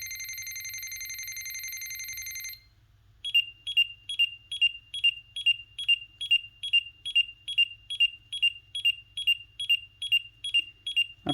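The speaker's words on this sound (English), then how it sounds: "I think it just keeps beeping." A Digimon Color V-Pet toy hatching an egg gives a steady high electronic tone, then a brief pause, then a rapid regular series of short piercing beeps, loud and close with no voices.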